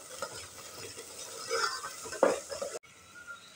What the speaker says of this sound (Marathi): याच्यामध्ये आपण मिक्सरमध्ये बारीक केलेलं वाटण टाकणार आहोत आणि छान परतून घेणार आहोत।